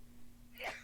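A single sharp sneeze bursts out near the end, loud and close after a quiet moment with a faint steady hum underneath.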